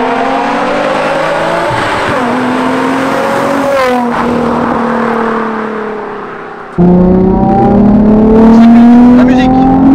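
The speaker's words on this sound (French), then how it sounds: "c'est aussi dans ce régime moteur là que l'échappement s'exprime à plein poumon" A Nissan 350Z sports car engine (280 hp) revs hard at high rpm, its exhaust note rising and falling through several pulls, loud and close, with a sharp jump to full throttle near the end.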